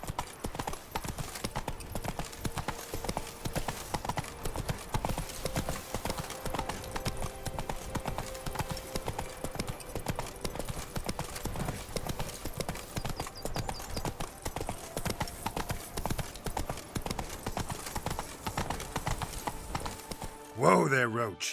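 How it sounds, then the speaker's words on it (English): A horse gallops in The Witcher 3 video game, with rapid rhythmic hooves on the ground, steady and close throughout and ending in a brief louder snort or whinny. "Whoa there, Roach."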